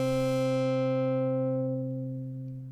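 A sustained synthesizer tone through a low-pass filter plays alone, its bright upper harmonics gradually fading as the filter closes and the note settles into a darker, softer hum.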